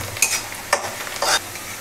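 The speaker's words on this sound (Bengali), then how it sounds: "পেঁয়াজটা একটু ভাজা ভাজা হয়ে আসছে" Onions fry in a pan with a continuous sizzle, while three short scraping stirs cut through the hiss at regular intervals; no talking.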